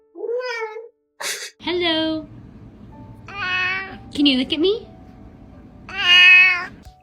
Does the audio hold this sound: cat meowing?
yes